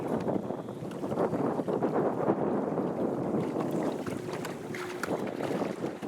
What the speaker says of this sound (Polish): tak to jest z tym przeklętym wiatrem